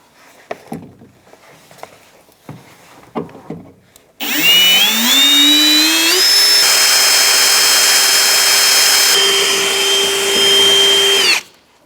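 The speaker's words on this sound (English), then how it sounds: "I've got a drill, and I'm going to start drilling them out" After a few light clicks and knocks, a power drill whines loudly and steadily for several seconds drilling out rivets on a 1992-1996 Ford F-150 door, its pitch rising then holding before it cuts off.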